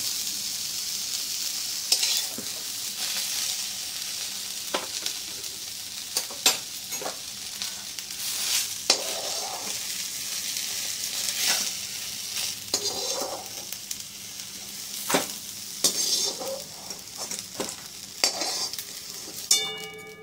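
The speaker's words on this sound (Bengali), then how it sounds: "বেগুনগুলো লাল লাল করে ভাজা হয়ে গেলে এগুলো" Eggplant pieces fry in a pan with a constant close sizzle, while a spatula stirs them, scraping and tapping the pan at irregular intervals, with no talk.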